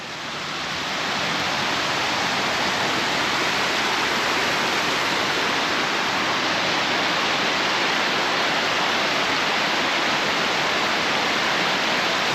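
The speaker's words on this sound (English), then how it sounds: "That's a nice view of the waterfall" Waterfall in Seydisfjordur, Iceland, a steady, loud, broadband roar of rushing water that holds constant throughout, close by with no talk over it.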